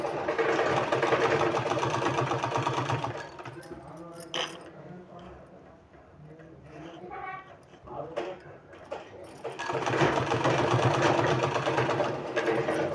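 An electric sewing machine stitches piping onto a suit neckline in a loud, fast rattling run that pauses midway for quieter handling, then resumes strongly near the end; a voice talks intermittently.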